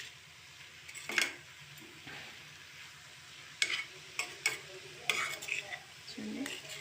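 Leafy greens curry is stirred in a pan, a spoon scraping and clicking in short irregular bursts over a faint sizzle, with a voice speaking at times.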